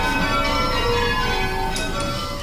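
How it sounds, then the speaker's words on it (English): Workers ring bells at Taylor's bell factory, loud overlapping metallic tones that ring on and blend into one sustained, shimmering wash with fresh strikes layered in. "the workers here at Taylor's often spend their lunch hour ringing their own bells"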